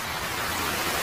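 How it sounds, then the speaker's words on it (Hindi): Heavy rain pours down in an animated Hindi story, a loud, dense, unbroken hiss lasting about a second. "बारिश बहुत तेज थी।"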